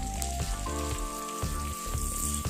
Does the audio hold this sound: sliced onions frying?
yes